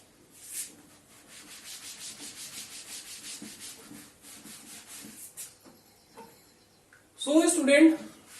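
Board eraser rubbing out writing on a classroom board, a soft, steady scrubbing rhythm of repeated strokes that pauses, then a brief louder burst near the end, with a teacher's voice nearby.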